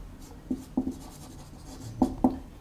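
Marker or chalk writing on a board during a class 10 coordinate geometry lesson, a few short squeaky strokes in two small clusters, close and quiet with pauses between them and no talk.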